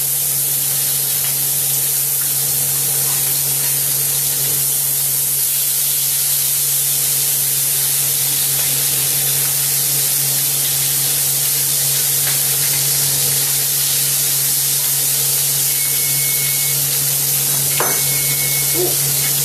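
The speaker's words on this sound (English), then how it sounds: "keep an eye on our bacon, because like I said, it's going to cook quick in that skillet" Bacon sizzling hard in a skillet, a loud, continuous hissing spray of fat with a steady low hum beneath and an occasional faint clink, no voices.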